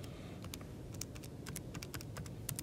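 Quick keys pressed on a calculator while entering 13 divided by 26 for a right-triangle cosine problem, a fairly steady run of light clicks, close and alone over a low background hum.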